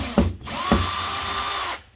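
Power drill driving screws to free an integrated fridge from its kitchen unit: two sharp clicks, then a loud steady whir lasting over a second before cutting off.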